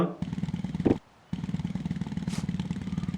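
A motorcycle engine drones steadily in a town-building video game, cutting out briefly for about half a second before resuming with a pulsing, rhythmic hum.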